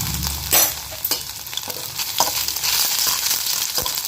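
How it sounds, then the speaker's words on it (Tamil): Hot oil sizzles and crackles steadily as ginger fries, with occasional stirring scrapes in a pan close by. "இப்போ எண்ணெய் விட்டு நல்லா காஞ்சிருச்சு இப்போ இதில் நம்ம இஞ்சியை சேர்த்துக்கலாம்"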